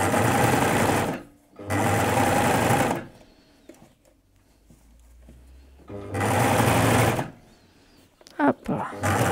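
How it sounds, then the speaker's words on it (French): A sewing machine stitches a basic T-shirt in two loud bursts of rapid whirring, with a quiet pause between them where fabric is shifted and small handling sounds occur. "je vais continuer à coudre"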